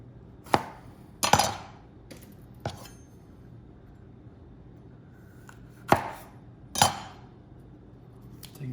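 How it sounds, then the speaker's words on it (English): A knife chops red, orange and yellow bell peppers on a cutting board in scattered, sharp knocks, a few close together, with quiet gaps between and no talking. "Now we're gonna cut some peppers."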